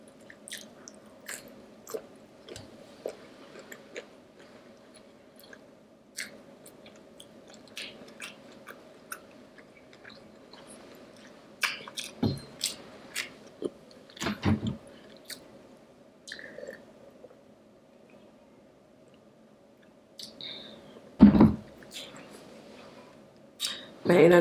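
Someone eats king crab and shrimp pizza topped with alfredo cheese sauce, with soft close chewing and squishy bites, a few sharper crunchy bursts, and a low voice murmuring under the mouth sounds.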